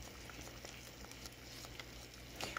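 Artichoke pizza sauce simmering in a pan, a faint, steady bubbling and soft pattering close by, with occasional small pops, quiet throughout and without any talk.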